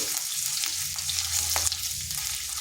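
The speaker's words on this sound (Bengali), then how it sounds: "এটা হালকা ভেজে নিয়েছি আদাটা" Sliced ginger with a pinch of turmeric fries gently in oil over low heat, giving a steady soft sizzle and crackle with occasional faint stirring scrapes.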